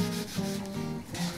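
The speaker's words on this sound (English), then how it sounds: "Just rubbing it back, rubbing all of that oil in." Boiled linseed oil being rubbed by hand with a cloth into an old wooden level, producing several rhythmic back-and-forth scrubbing strokes, close and fairly loud, with no talking.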